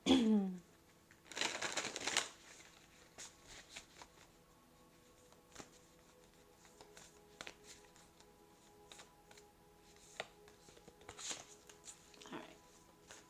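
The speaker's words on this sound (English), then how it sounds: "I'm gonna shuffle here off camera" Tarot cards shuffled by hand off camera, a brief burst of riffling and patter near the start followed by faint, scattered card handling, with no speech over it.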